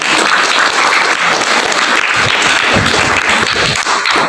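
A crowd at a religious talk claps loudly and continuously, a dense, even wash of applause from many hands that holds for the whole stretch.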